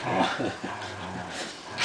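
A small white dog gives a few close, short growly barks and yips in quick succession, with a faint background hum and no clear talking.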